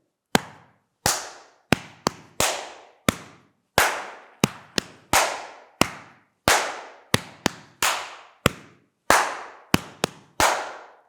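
Body percussion pattern of chest thumps and hand claps, sharp close hits in a steady repeating rhythm of about twenty strikes, each ringing briefly, with no voices.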